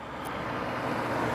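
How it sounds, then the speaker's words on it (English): Steady traffic rushes past at a distance during a Chevy Malibu brake pad job, a continuous broadband hum of passing cars that never breaks, with no talking. "Sorry about the cars in the background, the noise you hear"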